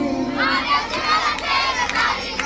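Crowd at a Navratri devotional night chanting and shouting together, a loud, dense wash of many voices rising and falling in swells.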